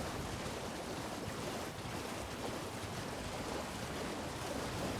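Rushing waterfall in the Elden Ring: Shadow of the Erdtree game world, a steady, dense roar of falling water sustained throughout at a loud, constant level with no voices.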